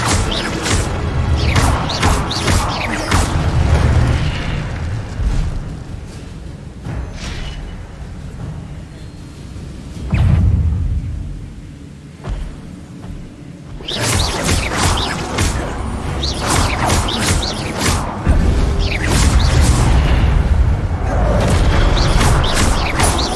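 Repeated booming blasts of the Incendio fire spell in Hogwarts Legacy during a duel, loud crashing bursts in clusters with a quieter stretch between them and voices calling out over the action.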